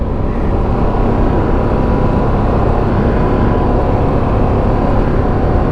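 Ducati Streetfighter V2 S or Aprilia Tuono 660 Factory motorcycle ridden along a bumpy autumn road, steady loud engine drone blended with heavy wind rush, constant throughout.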